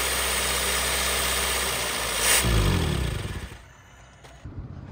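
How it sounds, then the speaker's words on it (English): A loud, rough Honda car engine idles with a coarse, rumbling exhaust from a damaged exhaust pipe, revving briefly before settling back to a low chug. "Exhaust on the pipe, that's why it's so loud."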